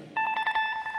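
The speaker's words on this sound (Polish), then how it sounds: "Jeśli ktoś udzieli poprawną odpowiedź, to będzie taki sygnał." A quiz signal tone for a correct answer at a Lenten retreat for children: a single electronic beep, steady and pitched with harmonics, held for most of a second after a short lead-in.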